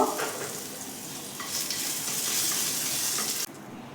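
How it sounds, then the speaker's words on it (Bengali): Garlic paste sizzles in hot oil while being stirred for a red lentil bharta, with a loud, continuous crackling fry up close and occasional scraping, dropping suddenly near the end. "তেলেতেই আমি রসুন বাটাটা দিয়ে দিলাম দিয়ে এটা একটু নেড়ে নেব"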